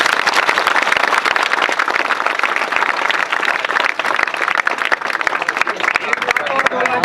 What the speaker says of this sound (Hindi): ऊर्जा के साथ एक जोरदार ताली बजाइए।